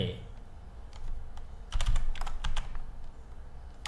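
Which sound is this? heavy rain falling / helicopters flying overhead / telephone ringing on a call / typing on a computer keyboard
typing on a computer keyboard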